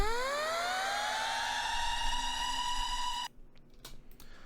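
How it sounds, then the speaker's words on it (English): Synthetic alarm effect in a wrestler's entrance theme: a single rising siren-like wail that climbs and holds as a loud steady tone, then cuts off abruptly, leaving faint background noise. "So the next sound that we have is an alarm."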